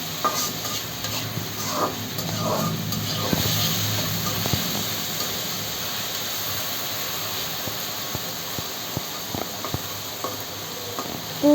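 Crab fries with salt in a pan, giving a steady close sizzle with stirring and scraping strokes that are busier at first and then settle into a quieter, even frying hiss.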